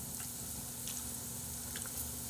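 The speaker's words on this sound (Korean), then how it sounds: "아직도 지글지글하는 거 봐봐" Pork belly (samgyeopsal) keeps sizzling on a grill, giving a steady, close, crackling hiss with faint spits and pops throughout, no voices over it.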